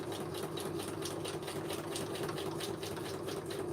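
Sewing machine stitching on a Halloween altered frame, a steady fast mechanical whir with rapid needle ticking, continuous and close at a constant level.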